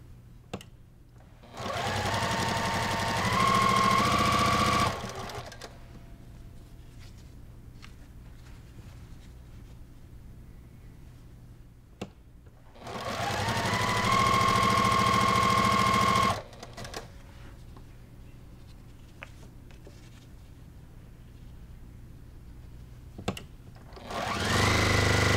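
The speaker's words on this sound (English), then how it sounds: "I'm just gonna add and just keep sewing just like I just did" A sewing machine chain piecing quilt blocks runs in two long, loud bursts of rapid stitching separated by quiet gaps, with a third burst starting at the end.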